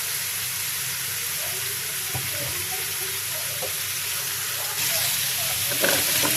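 Vegetables sizzling and frying steadily in a pan as green chillies go in, a continuous close hiss with light stirring scrapes, growing a little louder near the end.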